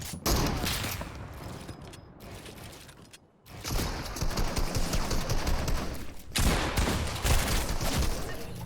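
Rapid gunfire bursts from a Fortnite Arena match, fast dense volleys that break for a moment of near silence and then resume with repeated sharp shots, loud and close with no talking.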